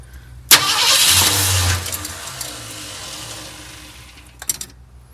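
A 1972 Ford F100 engine cranks and fires after years of sitting, catching with a loud burst and running roughly for a second before settling into a lower, uneven idle, then a few revs near the end.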